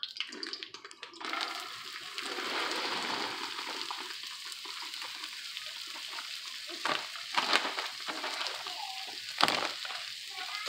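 Cauliflower sizzles and crackles steadily in hot oil, with occasional stirring scrapes and louder spits, close up and without talking.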